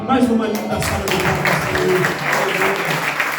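A congregation at a church service breaks into warm applause, dense overlapping claps filling the room continuously and with a voice faintly over it.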